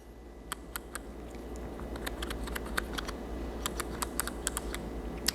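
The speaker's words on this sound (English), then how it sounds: "I'm gonna hold this up to my microphone here, guys, because there's a tactile little click" The adjustment dial on an MTM PF22 foam cannon gives off a series of small, crisp tactile clicks, irregularly spaced and held close over a faint background hum.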